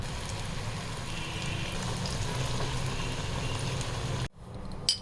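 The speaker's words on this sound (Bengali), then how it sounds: "এবার এগুলোকে আমি ফ্রাই করে নেব।" Bone-in marinated chicken pieces for chilli chicken sizzle steadily in hot oil, a close, even crackling hiss that stops abruptly near the end.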